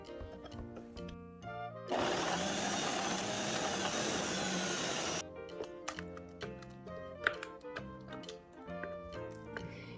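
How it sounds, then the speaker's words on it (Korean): A blender grinds shepherd's purse greens with water and salt, a loud steady whirring roar of about three seconds that starts and stops abruptly, set between quieter kitchen clatter and clicks. "믹스기에 냉이 담고 물 200ml 부었습니다. 소금 1티스푼 넣고 갈아줍니다."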